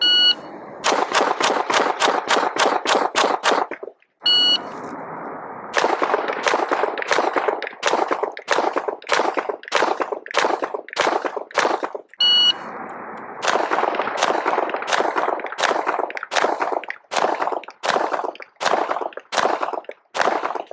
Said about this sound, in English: looking at the shots with the XD-ME, all of the par times were met